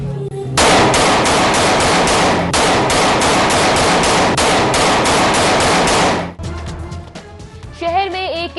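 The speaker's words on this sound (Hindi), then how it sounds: "सोनू बॉक्सर ग्रुप की हवाई फायरिंग की एक और वीडियो मंजर आम पर" Rapid automatic gunfire from aerial firing rattles loud and continuous for about six seconds, then cuts off abruptly, followed by a news presenter talking.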